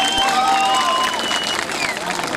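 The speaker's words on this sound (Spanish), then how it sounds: "brindemos un fuerte aplauso para él." A festival crowd at the San Felipe patronal fiestas applauds and cheers a contest winner, a steady wash of clapping mixed with whistles and voices, close and continuous over a couple of seconds.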